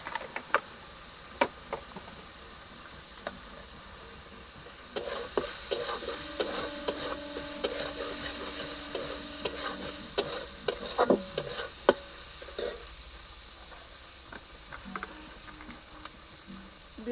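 Pumpkin greens and shrimp with chilli powder, salt and turmeric sizzle steadily in a pan while a spatula scrapes and stirs in repeated strokes, growing busier midway, with no talking.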